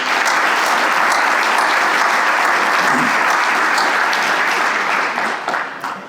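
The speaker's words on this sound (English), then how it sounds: "everybody deserves a round of applause." A crowd at a 50th reunion brunch applauds steadily and loudly, a dense wash of clapping that holds for several seconds before beginning to thin out at the end.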